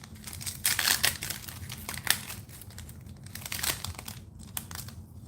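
Foil Japanese Pokémon TCG booster packs from Clay Burst and Snow Hazard being torn open and crinkled up close, a steady run of crisp crackling and ripping that swells and fades with no talking.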